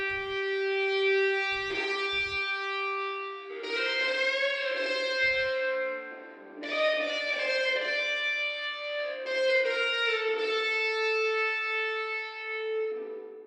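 An electric guitar solo, processed through Guitar Rig with flanger and reverb, plays sustained, bending notes with a swirling, shimmering tone. Phrases rise and fall over about a dozen seconds with short gaps between them.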